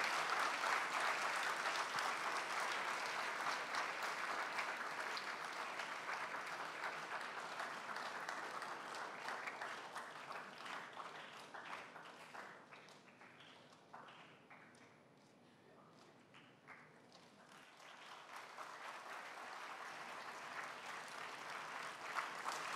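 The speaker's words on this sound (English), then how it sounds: "Please give a round of applause to the team." An audience at a scouting peace event gives a long round of applause, loud and dense at first, then thinning into scattered individual claps before a quieter swell of clapping returns, with faint voices underneath.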